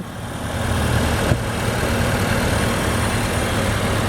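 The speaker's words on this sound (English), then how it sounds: "4-cylinder engine just purring away like brand new" A 2014 Ford Fusion Energi hybrid's four-cylinder engine idles smoothly and steadily nearby, a low even hum with a faint click partway through.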